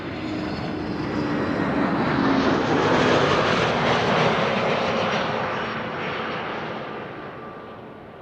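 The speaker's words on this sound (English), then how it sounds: "This is KLM Flight 96 arriving from Edinburgh in Scotland, an A321neo" A KLM Airbus A321neo inbound from Edinburgh arrives at Amsterdam Schiphol, its engine roar swelling to a broad, steady rush that peaks midway and then slowly fades as it passes.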